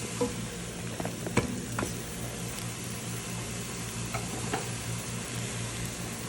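Chicken sautéing in a pan for a cream and broccoli soup keeps up a continuous low sizzle, with occasional sharp clicks and scrapes of a utensil against the pan, close by and without speech.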